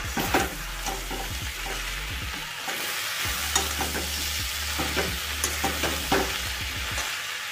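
Dry fish curry with fried fish and split green and ripe chillies sizzles in a pan on low flame. A spoon scrapes and stirs over the continuous frying, with a low hum underneath. No voices.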